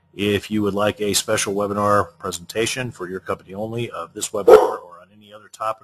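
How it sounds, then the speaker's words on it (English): A dog barks once briefly in the background while someone speaks steadily over it, the bark short and sharp against the talk. "Pardon the dog."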